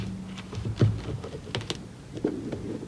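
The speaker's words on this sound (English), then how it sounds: "So let's open it up, and it looks like it's shrink wrap. So cut it open." Sharp tapping and crinkling as shrink wrap is cut open on a packaged planner, a rapid patter of small close clicks and scrapes over quiet room tone.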